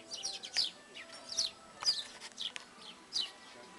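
Small birds at a beach restaurant on Playa del Duque, Tenerife, giving quick bright chirps in short bursts, fairly close but soft, with faint background murmur between calls.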